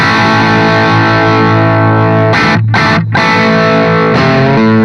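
An electric guitar plays through a Joyo JaCkMan micro head, a budget Marshall JCM–style amp, with heavy distortion and time-based effects, loud sustained chords broken by two quick choppy stops before ringing out.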